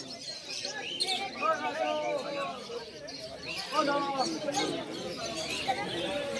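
Several teddy pigeons coo and burble continuously close by at a pigeon market, with scattered chirps mixed in, while a person speaks over the flock.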